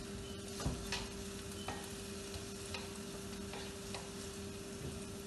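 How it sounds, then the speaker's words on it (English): Food frying in a pan while cabbage rolls are made, giving a steady close sizzle with light clinks and stirring scrapes throughout, and no voices. "Let it fry."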